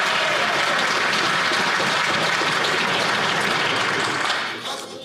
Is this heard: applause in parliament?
yes